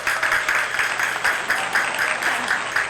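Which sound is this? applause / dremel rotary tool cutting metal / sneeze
applause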